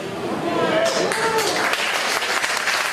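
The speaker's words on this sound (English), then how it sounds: "Please hold your applause, please." Audience applause breaks out at a community discussion meeting, scattered clapping from a crowd rising under and after a speaking voice, moderately loud and sustained.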